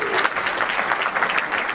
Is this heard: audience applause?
yes